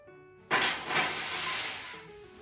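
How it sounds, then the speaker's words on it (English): Ice cubes dropped into the bottom of a hot oven for baking French bread burst into a loud sudden hiss of steam that keeps sizzling steadily before easing off. "to get a nice crust, put some ice cubes in the bottom of the oven"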